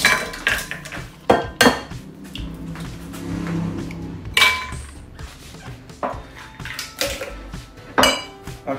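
Two cracked eggs are being mixed in a bowl for a prawn omelette, with a utensil clinking and knocking against the dish in uneven bursts, close and fairly loud.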